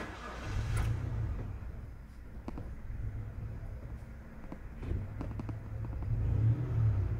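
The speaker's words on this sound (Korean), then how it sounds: "창문 닫고 시동이 한 번에 안 걸렸습니다." A 2000 Galloper nine-seat LPG SUV engine starts and runs, a low steady rumble with slight revving swells, heard from nearby without talk.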